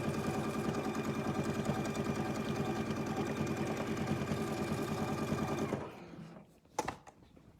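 A sewing machine runs a steady, fast mechanical stitching rhythm on double-stitched fabric for several seconds, then stops, leaving a couple of soft clicks and handling knocks.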